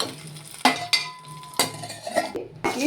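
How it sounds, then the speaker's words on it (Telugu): Iron dosa pan set onto a stovetop, a few close metallic clunks and clinks with a faint ringing tone, quiet kitchen between the knocks. "పెనం వేసుకున్నామండి."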